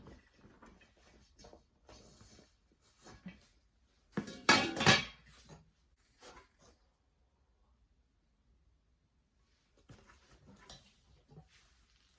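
A lid set onto an oven-safe container while unboxing a parcel: one short, hard burst of clattering and knocking in an otherwise quiet room, with faint talking around it.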